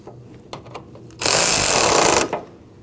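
A power tool whirs for about a second while tightening radiator bolts on a Nissan NV2500 with a 5.6L V8, a loud close buzz between quiet clicks of handling.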